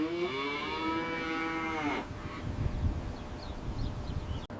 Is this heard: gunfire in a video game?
no